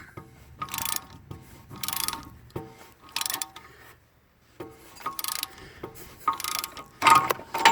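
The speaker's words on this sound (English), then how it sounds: "You want to use a wrench and a bit of a breaker bar like I got." Wrench and breaker bar tightening the rear wheel bearing on a VW MK4 Jetta: bursts of close metallic ratcheting clicks separated by pauses, with no talking.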